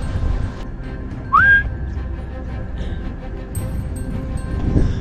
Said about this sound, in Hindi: ये भाई जो अभी सीटी बजा रहा था ना, ये इनका कांटेक्ट करने का तरीका है